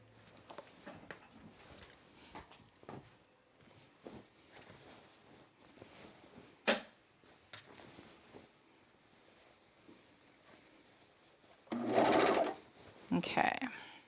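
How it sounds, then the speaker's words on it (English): An overlocker runs in short bursts while sewing the seams of a V-neck coat, with loud close whirring runs near the end after quieter handling and rustling, and a person talks between the bursts. "let's overlock those"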